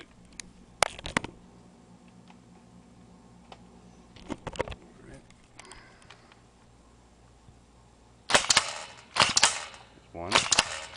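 An air-powered dart gun at 40 psi fires rounds in a series of sharp pops and bursty clatters, with a few isolated shots early and louder rapid bursts toward the end, close to the listener.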